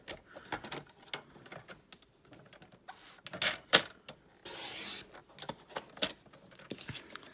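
A paper trimmer blade slides through cardstock during Stampin' Up! card making, heard as a scattering of sharp clicks and taps, then a brief rasping swipe near the middle, all fairly quiet with no talking.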